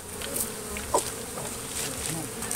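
Honey bees buzzing in an active hive box where comb is already being built, a steady close insect drone with a few louder individual passes flying near, no talking.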